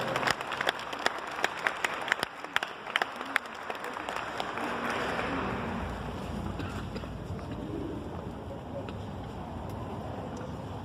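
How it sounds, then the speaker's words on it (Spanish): Applause from an audience at a conference session on femicide, a scattered patter of claps that fades into a rustling, windy room murmur. "Pedimos un aplauso, por favor, para la licenciada."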